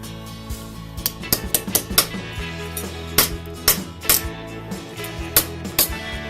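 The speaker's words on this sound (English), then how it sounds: "Now you just take your body hammer" Repeated sharp metallic strikes of a body hammer flattening metal, irregular and close, ringing briefly after each blow, with no speech.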